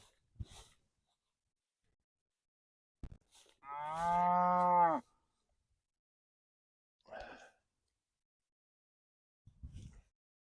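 On a small farm, a single cow gives one clear, fairly close moo lasting about a second in an otherwise quiet pasture, with a few soft thumps and rustles around it.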